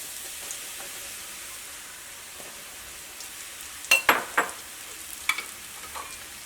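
Sliced radish frying in hot oil for an egg roast, a quiet, steady sizzle with a few sharp clinks of a utensil stirring the pan.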